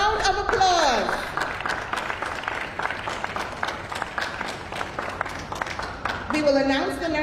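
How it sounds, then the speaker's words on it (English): Audience at a Nurse of the Year awards ceremony applauding the nominated nurses, a sustained round of clapping between a speaker's talk at the start and end. "So again, I ask you to give them a round of applause."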